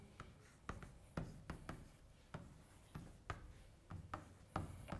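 Chalk or marker strokes as an equation is written on a board during a physics lecture, a series of short scratchy taps and rubs in an irregular rhythm, quiet and close with no talk.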